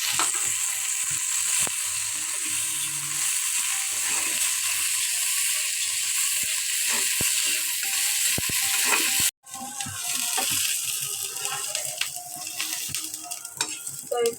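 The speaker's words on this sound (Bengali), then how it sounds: "তো এই তো আমি পেঁয়াজ মরিচটা ভাজে নিচ্ছি সুন্দরভাবে" Onion and green chilli frying in a pan for a Bengali meal, a steady close sizzle with scattered clicks and pops, briefly cut off near the end and then resuming.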